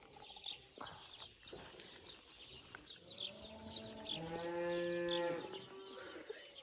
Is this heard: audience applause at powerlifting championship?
no